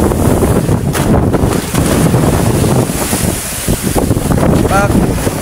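On a small fishing boat at sea in big waves, strong wind roars against the microphone and water surges and crashes around the hull in a loud, constant wash, with faint voices under it.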